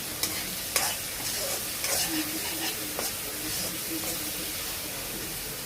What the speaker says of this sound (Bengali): এবারে ভালো করে নাড়াচাড়া করতে হবে।